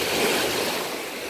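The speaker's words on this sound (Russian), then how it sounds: "Вот волна." Sea waves wash onto a sandy Black Sea beach on a morning near Anapa, a broad continuous rushing surf with some wind noise on the microphone, close and fairly loud.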